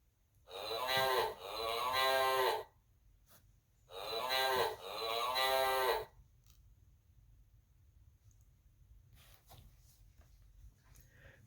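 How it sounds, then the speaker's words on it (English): Two long, loud cow moos play from a Sesame Street Elmo's Noisy Farm button sound book, each a drawn-out bellow with a break between, followed by faint clicks and quiet. "Look for an animal that says moo, moo."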